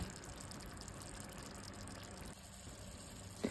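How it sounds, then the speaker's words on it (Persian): Hot water poured into a simmering chicken sauce in a home kitchen, a steady close gush of liquid running for a few seconds before settling, with a short clink near the end. "Add some hot water to sauce."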